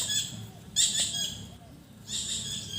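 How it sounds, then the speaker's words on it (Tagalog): Bird calls ring out in short high bursts, a few separate calls spaced apart over faint background noise, moderately near. "Ibon na yun."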